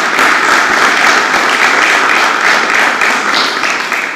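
Loud, sustained applause from a gathering at a news-covered event about new faculties at the University of Niš, a thick continuous wash of clapping.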